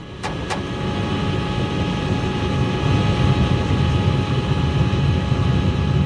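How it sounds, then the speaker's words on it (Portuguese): Steady low aircraft engine drone on a cockpit recording fills the whole stretch, a continuous mechanical rumble with a couple of brief clicks near the start and no voices. "Nós tentamos analisar o som dos motores."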